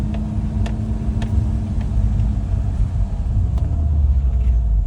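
A BMW E30 325ic cruises along with its engine running, a steady low rumble and road drone heard from inside the car, fairly loud and even throughout with no talking.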